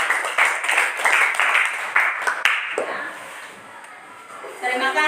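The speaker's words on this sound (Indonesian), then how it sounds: "tepuk tangan buat Winda" Classroom applause for a student after a speech, a dense burst of clapping that fades out over several seconds before a short flurry returns at the end.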